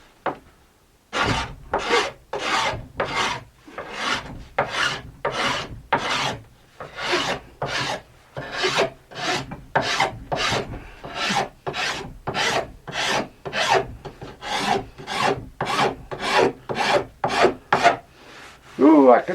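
A hand file rasping along a fiberglass ski sidewall in steady back-and-forth strokes, about two dozen even scraping passes close up with no talking.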